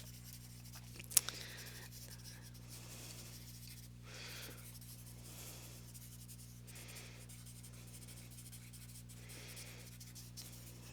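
Pencil shading on paper in squiggly strokes to build a leaf texture in a drawing, heard as soft, repeated rubbing scratches in a loose rhythm, close and faint over a steady electrical hum.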